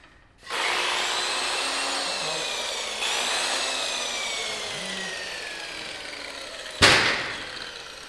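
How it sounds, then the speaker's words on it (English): An angle grinder bogs down while cutting metal for a curved metal sofa table repair. It spins up loud with a high whining drone whose pitch sags and wavers under load, then ends in a sharp harsh burst. "That, my friends, is the sound of a grinder dying"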